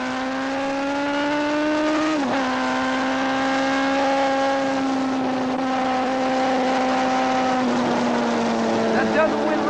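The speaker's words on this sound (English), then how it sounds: "I'm coming out of turn 9, I'll pull a wheelie for you." A motorcycle engine from the 1979 AMA Superbike game at Laguna Seca revs and holds a high, steady whine through a wheelie out of turn 9, with one brief pitch dip and a slight drop near the end, loud and continuous.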